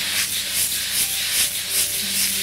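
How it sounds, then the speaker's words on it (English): A steady hiss of fresh pineapple sizzling in a hot pan, swelling and easing in gentle waves, with faint stirring underneath and no voices. "You can hear how fresh it is. It's sizzling."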